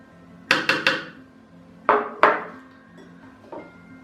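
A metal spoon clinks and taps against a bowl while a tablespoon of moringa powder goes in for a hair mask: three quick knocks, then two louder ones, and a faint final tap, close and clear.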